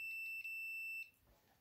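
Continuity beep from a multimeter probing the neutral line of an Asus laptop power supply under repair, a steady high electronic tone held for about a second, then cutting off to quiet room noise.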